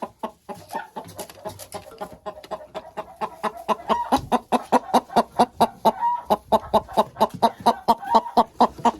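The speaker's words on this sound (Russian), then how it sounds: "Курочка идет нестись." Laying hens cluck repeatedly in a rapid, rhythmic series as one goes to lay, close and growing louder, with a few drawn-out calls mixed in.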